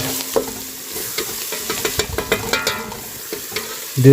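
Tomatoes with red chilli, salt and masala stirred and frying in a pan with onions: close sizzling under a run of rhythmic spoon scrapes and clicks, ending on a louder clatter.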